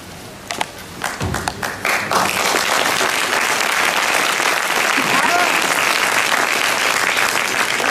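Scattered claps from a symposium audience build quickly into full, sustained applause that fills the room and carries on steadily for several seconds.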